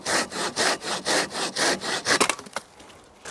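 Silky Bigboy Japanese pull saw cutting through wood in slow, even strokes, about eight rhythmic rasping passes close by, then a few splintery scrapes as the cut finishes and the sound drops away.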